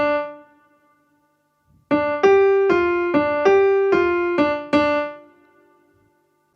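Piano playing a finger exercise, a short run of about eight crisp, evenly spaced notes in a funky rhythm, heard alone after a single opening note and a brief pause.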